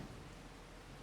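Rain falling in Farming Simulator 25, a very faint, even wash of steady noise throughout the short moment, with no voices.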